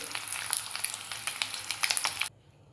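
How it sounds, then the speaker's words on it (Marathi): Eggs fry in hot oil for an egg curry, a busy crackling sizzle with sharp popping spits, close and steady, cutting off abruptly near the end. "आता त्या अंड्याला आपण व्यवस्थित फ्राय करून घ्यायचं"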